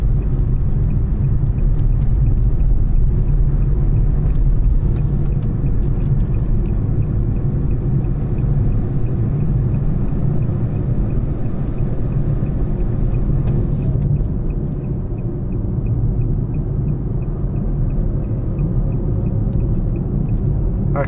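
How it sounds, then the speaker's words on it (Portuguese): Heavy truck traffic on the BR 116 highway in Brazil, heard from inside a car as a continuous loud low rumble of engines and road noise throughout. "Lotou de caminhão na estrada."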